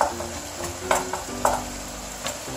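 Chopped tomatoes and peppers sizzle in a frying pan, a steady soft crackle with occasional stirring scrapes and clinks, close and moderately quiet.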